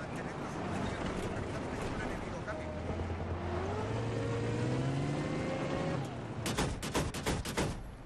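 Motorcycle engine revving in Battlefield 3 on a snowy map, rising engine tones climbing over steady battle noise, followed by a burst of sharp gunshots near the end.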